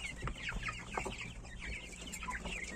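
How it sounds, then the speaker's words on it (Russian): Young chickens, including Bresse Gauloise roosters, cluck and chatter close by in a continuous, busy stream of short calls, with no talking. "Это, конечно, петушок."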